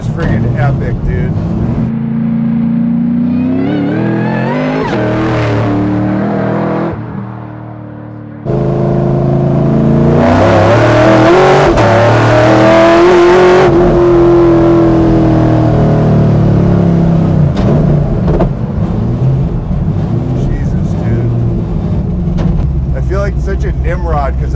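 Loud, continuous engine revving from a Buick Regal Grand National doing burnouts, climbing and falling in pitch, with a short dip before a sustained high-rpm roar, as people talk nearby.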